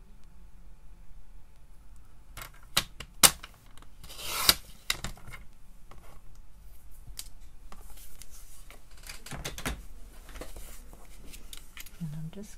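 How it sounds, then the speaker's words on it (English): A rubber eraser rubbing out pencil dots on a craft workpiece gives a run of soft, close scrubbing and scratchy bursts with a few sharp taps, and a person talks quietly at times. "Rub out my dots now."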